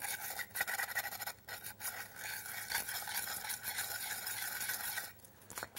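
A nail file rasps steadily back and forth, sanding red paint off the raised areas of a metal can lid, close and continuous with brief pauses.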